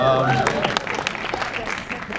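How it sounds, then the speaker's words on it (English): Audience at a DOC NYC 2015 film event breaks into clapping, a brief burst of dense applause that starts right after a voice and keeps going for about two seconds. "a round of applause for that"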